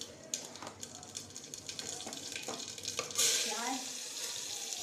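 Cumin seeds hit hot oil for dal, starting with a run of crackles and pops, then a louder hiss surges up as more goes into the pan and settles into a steady sizzle.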